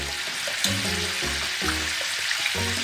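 Baby potatoes frying in hot oil for barule, an Aligarh street snack, with a steady close sizzle and intermittent stirring knocks.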